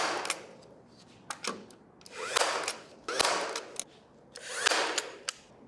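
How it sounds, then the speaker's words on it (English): A brad nailer drives nails into two joined pieces of wood for a shelf, firing several sharp, close snaps in small clusters between softer hissing bursts and workshop handling noise. "I'm gonna put a few brad nails where the two pieces of wood join"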